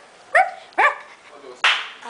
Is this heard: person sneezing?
no